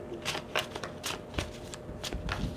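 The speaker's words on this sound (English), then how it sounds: "So I'm going to pull some of these cards" A deck of tarot cards being shuffled up close, with a run of crisp riffling flicks and soft slaps in quick irregular succession, fairly quiet, with no talk.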